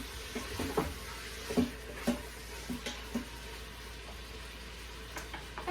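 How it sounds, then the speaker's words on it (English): Beef for stroganoff browning in a pan, a quiet steady sizzle with soft stirring clicks and scrapes every half second or so. "put your meat in. And what you're going to do is you're going to brown it for a couple of minutes."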